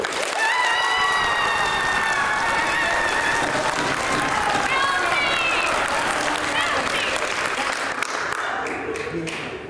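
Audience at a staged family musical about the Big Bad Wolf's trial claps loudly and steadily throughout, a dense sustained wash of applause with some cheering and voices mixed in, fading slightly at the end.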